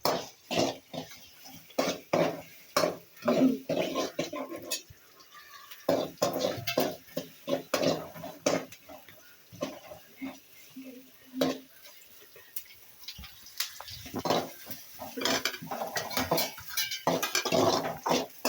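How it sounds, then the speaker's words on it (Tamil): Two medium-sized chopped onions sautéed in a pan over fairly high heat, heard as a close, steady sizzle broken by repeated scraping and clinking of a utensil stirring against the metal, with no talking. "2 வெங்காயம் மீடியம் சைஸ் வெங்காயம் கட் பண்ணிக்கலாம். நல்லா வதக்கலாம்."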